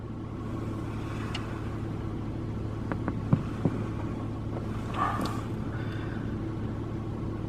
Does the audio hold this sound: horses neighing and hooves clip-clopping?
no